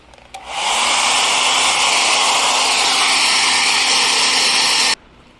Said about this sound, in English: I have hit it with the hairdryer for a little bit